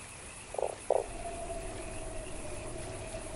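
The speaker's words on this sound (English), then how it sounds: "Yeah, that is actually a talking frog." Two short croaks from a talking toad in the video game Fran Bow, close and moderately loud, followed by a quiet sustained tone and low background hum, no speech.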